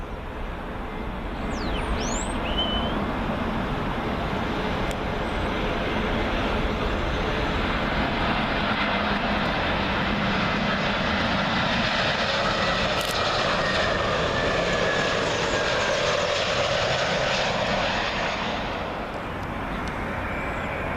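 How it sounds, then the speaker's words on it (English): Austrian Airlines Airbus A320 in from Vienna landing on runway 27L at Heathrow, a loud sustained jet engine roar passing close overhead, swelling and holding steady before easing off near the end. "Up next, Austrian A320, also in from Vienna"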